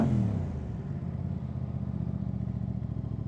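An Aprilia RS660 sport motorcycle fires up with a loud burst, then settles into a quick, pulsing idle that stays close and steady.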